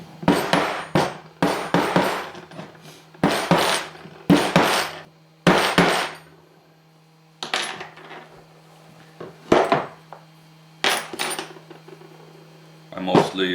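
Old reclaimed nails are hammered straight on a miniature anvil, with sharp metallic strikes ringing out in quick clusters and pauses between them, close and clear, and a voice talking in the background.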